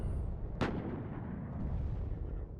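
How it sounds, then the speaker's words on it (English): Artillery fire in the WARNO war strategy game, one sharp distant boom followed by a long rumbling roll over a low steady battlefield drone. "Might just about see the artillery fly in."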